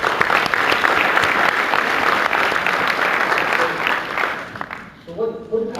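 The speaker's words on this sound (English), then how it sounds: "Let's give a round of applause going for our panelists." An audience applauds panelists at a discussion event, a steady dense wash of clapping that holds for several seconds before thinning out into a few scattered claps and faint voices at the end.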